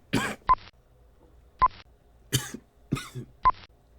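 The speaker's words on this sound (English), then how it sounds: "Thanks to a PC, you haven't had to endure blunders, errors, coughs, and sneezes like these" Four short coughs spaced across a few seconds, each a sharp close burst, interleaved with brief electronic beeps, from a comedic blooper reel of flubbed takes.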